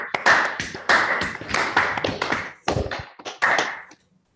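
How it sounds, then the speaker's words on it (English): Several participants on an unmuted online call clap after a mathematics talk, giving choppy, uneven bursts of close hand claps and taps that break off abruptly and then stop. "let's unmute ourselves to give an applause."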